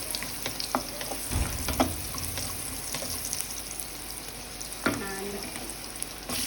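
Vegetables sizzle and fry steadily in a hot pan for bhog khichuri, with occasional clatters of stirring and a few sharper bursts as pieces are added; no talking.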